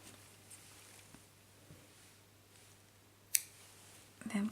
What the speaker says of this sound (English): And cut off your yarn.